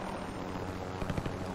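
Helicopter rotor and engine drone in Call of Duty Warzone as the aircraft lifts off, a steady mid-level whir with a few brief louder thumps near the end.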